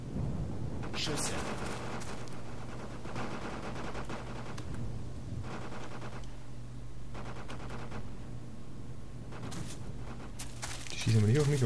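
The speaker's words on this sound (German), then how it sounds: "Schüsse." Gunfire in the military shooter game Operation Flashpoint: Dragon Rising: repeated bursts of automatic fire come and go over about twelve seconds, rumbling and fairly distant, while a player talks.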